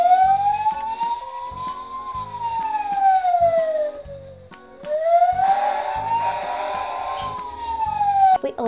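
Dickie Toys S.O.S toy ambulance sounding its electronic siren, a rising and falling wail that loops twice, up close over a steady beeping pattern, with clicks as a button is pressed at the end.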